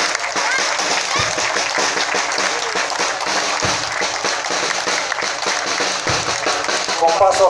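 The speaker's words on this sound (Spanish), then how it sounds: "Fuerte los aplausos." Audience applause at an anniversary celebration after a dance performance, steady broadband clapping sustained throughout with voices mixed in underneath.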